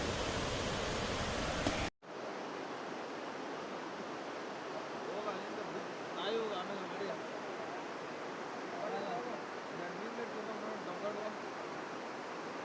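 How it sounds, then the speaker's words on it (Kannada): Bharachukki waterfall in Chamarajanagar district roars as a steady, dense wash of rushing water, briefly louder at first, then continuing unbroken and evenly spread at a distance. "ಸೌಂಡ್ ಸಕ್ಕತ್ತಾಗಿ ಬರ್ತೈತಲ್ಲ ಇದು ನೀರು ಬರ್ತಾರದು."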